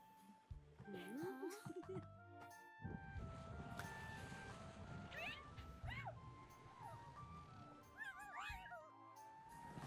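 A cat in the video game Dragon Quest Treasures meows several times over game music and effects, with a voice briefly imitating the meows.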